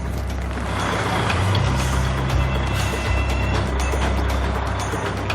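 A heavy lorry maneuvers a railway carriage through a narrow depot entrance, its diesel engine rumbling loud and close under steady mechanical noise, with hissing air and faint beeping on top.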